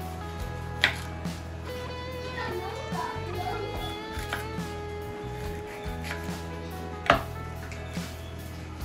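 A knife chops vegetables on a board with a series of irregular, close taps and a few sharper knocks, over a low steady hum.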